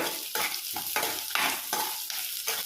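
Green chilli and ginger sauté in oil in a pan for coconut rice, with a continuous sizzle and steady, rhythmic spatula stirring strokes, close and fairly quiet.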